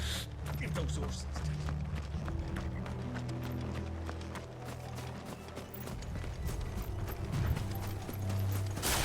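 Horse hooves clip-clop at a brisk, uneven pace in the Final Fantasy 16 video game, several horses close by with their hoofbeats clattering over a low rumble, accompanied by faint mechanical clanks and a brief whinny.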